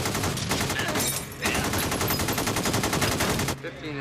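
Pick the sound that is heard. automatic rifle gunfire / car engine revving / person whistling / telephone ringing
automatic rifle gunfire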